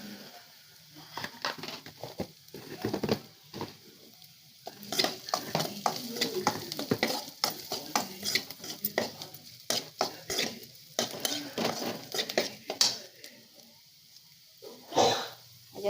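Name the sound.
stirring turmeric into ridge gourd bhaji in a pan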